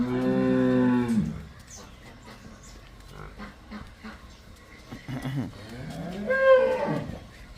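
Cattle on a farm where cows and buffalo are kept: a loud, sustained moo opens, then quieter farmyard sounds follow before another long, rising-and-falling moo near the end, fairly close.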